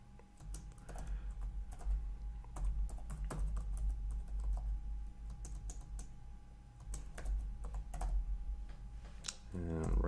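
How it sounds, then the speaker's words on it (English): Rapid typing on a computer keyboard while editing a hosts file in a terminal, with irregular bursts of close, crisp key clicks and a faint background hum. "So nano etc hosts, and looks like we already have the first line, so we're going to head and add the second line."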